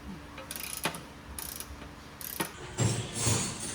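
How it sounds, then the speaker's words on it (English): A socket ratchet loosens motor mount bolts during an automatic-to-manual transmission conversion: quiet, close clicking ratchet strokes in short bursts, with a heavier metallic clunk and rattle toward the end. "so now I can get a socket on the motor. So now I can just turn it over, loosen them like that."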